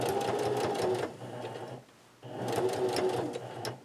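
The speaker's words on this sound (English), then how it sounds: "I'm stitching right along this edge, and I'm putting the presser foot along the edge of here" Domestic sewing machine running a longer stitch along piping at the edge of a fabric bag, whirring steadily in two bursts with a short pause between them, close and fairly loud with no talking.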